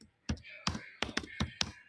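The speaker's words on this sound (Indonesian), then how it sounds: "Dan untuk mencarinya kita ketik di command window-nya" Keystrokes on a computer keyboard entering text into a command window, coming in quick clustered bursts with short pauses between groups, close and clear with no voices.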